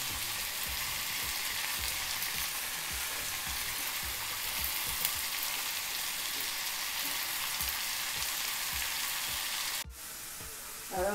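Chopped tomato fries in hot oil in a pan for fish puttu, a loud, steady close sizzle that runs throughout and ends with a brief clatter.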